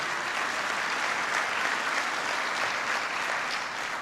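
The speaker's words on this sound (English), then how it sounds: "who deserves a big round of applause" A university audience in Michigan applauds Secretary of Agriculture Tom Vilsack at a farm bill signing, an even, continuous roar of clapping heard from a moderate distance.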